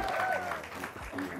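Audience at a film premiere event at XX1 Plaza Indonesia applauds, a brief steady patter of clapping under voices talking over it.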